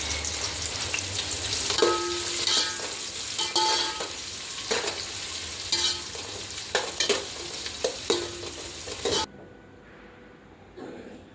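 Four sliced onions frying in oil in a pan, a steady dense sizzle with frequent scrapes and clatters of a spoon stirring against the metal, running continuously before cutting off abruptly near the end to quiet room tone.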